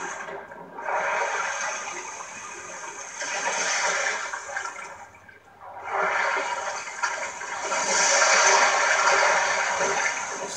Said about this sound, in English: I fell in the water, man